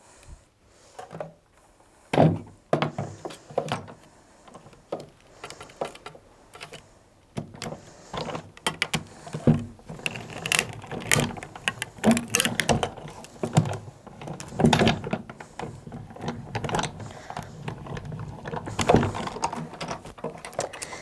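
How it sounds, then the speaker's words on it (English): A Sizzix die-cutting machine cranking a craft die sandwich through its rollers: a steady mechanical grinding and ratcheting hum with clicks, building after a quieter start and continuing close for many seconds without speech. "you can then sandwich that up and roll that through your machine"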